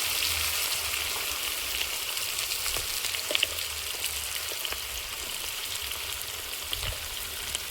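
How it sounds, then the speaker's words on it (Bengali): Sliced garden potato rounds with whole cumin fry in hot oil in a pan, a continuous close hissing sizzle with occasional soft pops, no voices. "এবার ভাজা হতে থাকে।"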